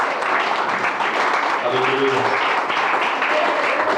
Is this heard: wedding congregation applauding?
yes